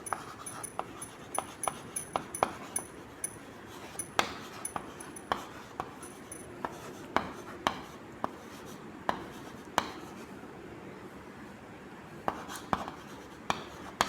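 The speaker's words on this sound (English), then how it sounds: "So here I'll write" A pen writes on paper in short rhythmic scratches and taps that run steadily throughout, close and moderately faint, with a dog whimpering and panting at times in the background.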